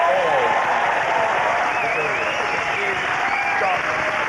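A studio audience at a BBC Red Nose Day broadcast in 2001 claps and cheers loudly. The applause is continuous and fills the room, and a voice speaks over it throughout.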